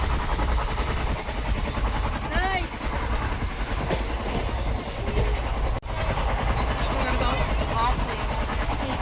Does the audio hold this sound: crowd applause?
no